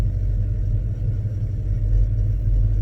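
Chevrolet C10 truck with a swapped LS V8 idling close by, a loud steady low rumble with a slight uneven throb throughout.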